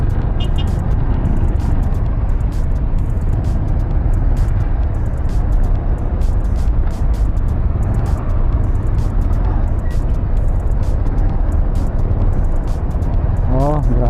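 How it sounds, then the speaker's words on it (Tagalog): Dense, continuous road traffic rumbles on a busy highway near an interchange, with engines, passing cars and heavier trucks or buses blending into a steady roar, and a brief hiss near the end. "Malala na ang traffic dito."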